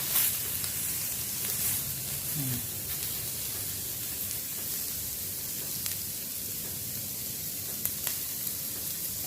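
Shrimp sizzling on a grill, a steady close hiss and crackle throughout with faint spatters and a few light clicks.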